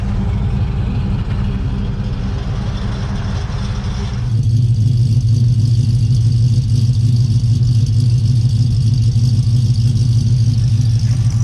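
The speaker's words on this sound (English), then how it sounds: "let's hear a little before and after on this muffler install." A car engine runs loud and close, first a duller rumbling idle, then after an abrupt change a deeper, louder, steady exhaust drone that follows a new muffler install.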